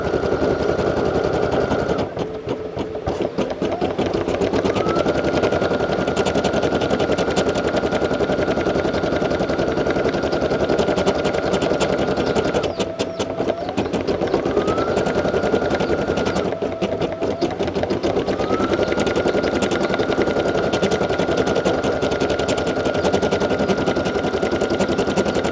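A Brother SE1900 embroidery machine stitches a design on a hat, a fast steady needle rattle running continuously and loudly, with a faint motor whine shifting pitch now and then.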